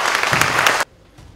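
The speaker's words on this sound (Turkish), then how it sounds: "Irmak Güzeli alkışlarınızla huzurlarınıza davet ediyoruz." Audience applause at a Quran course opening ceremony in Turkey, dense and loud for under a second before cutting off sharply into near silence.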